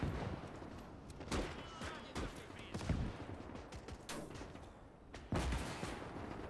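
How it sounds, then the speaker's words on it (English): Gunfire in the World War II game Gates of Hell on the Soviet side, sharp shots and bursts cracking at irregular intervals against a constant rumble of battle, fairly close and loud. "Being shot from somewhere."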